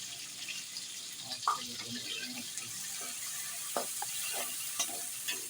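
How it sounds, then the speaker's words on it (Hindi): Tomatoes fry in a pan with a soft, steady sizzle while a utensil stirs them, adding occasional scraping knocks. The sound is fairly faint and close, with no clear talking. "इसके अंदर टमाटर डालने लगे हैं। इसको अच्छी तरह से भूनना है।"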